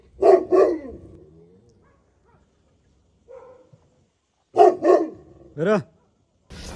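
A dog barks in a rural outdoor setting: a pair of sharp barks, a quiet stretch with a faint yelp, then another pair of barks followed by a whining yip, loud and close.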